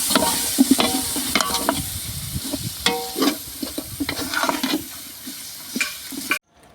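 Tomatoes stirred and frying in a pan for Andhra-style basmati chicken biryani, with a steady close sizzle broken by repeated scraping and clattering stirs, then a sudden stop.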